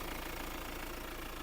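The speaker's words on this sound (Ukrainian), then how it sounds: "Двигун працює гарно." A Hyundai Santa Fe 2.2 CRDi diesel engine idles up close, giving a steady low rhythmic clatter with even pulses and a constant hum for a brief moment, with no speech.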